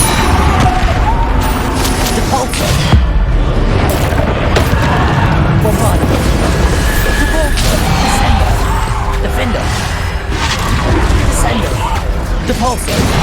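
Repeated Depulso and Bombarda spell blasts in Hogwarts Legacy boom and crash through a dense, loud final-boss battle, one burst tumbling into the next over a constant roar, with a voice calling out beneath the din.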